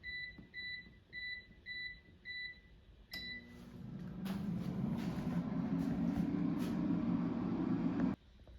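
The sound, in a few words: air fryer cooking sausage waffles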